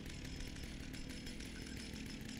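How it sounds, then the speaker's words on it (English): A chainsaw revs continuously in the Texas Chainsaw Massacre video game as Leatherface wanders near Hopewell Cave. The droning engine stays loud and steady throughout, with no talking over it. "we're back with the chainsaw"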